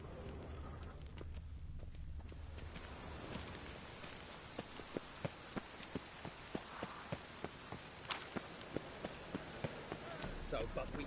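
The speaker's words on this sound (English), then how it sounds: "Looks like rain." Rain falls in The Witcher 3, a steady hiss of drops with sharp patters tapping through it, fairly faint and alone.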